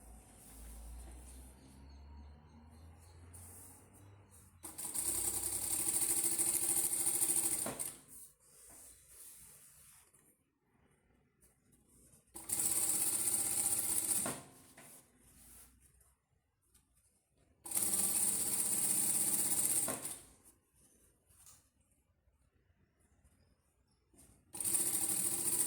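A sewing machine stitches a fabric bib trimmed with bias binding, beginning with a backstitch. It runs in several steady bursts of a few seconds each, separated by quiet pauses, close and fairly loud.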